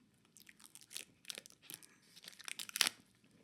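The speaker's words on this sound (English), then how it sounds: "With this one, let's get the sticker off." A sticker peels off a new luxury handbag with soft, close crinkling and tearing, broken into short bursts that end in one sharper rip.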